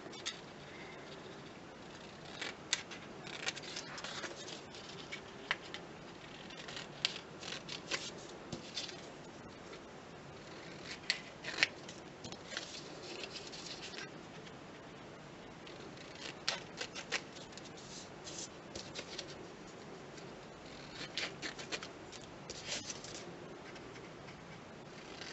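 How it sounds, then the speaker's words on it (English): Paper teapot pieces being snipped out with scissors, a steady run of short crisp cuts and rustles close by, with no talking. "And then we're going to cut them all out."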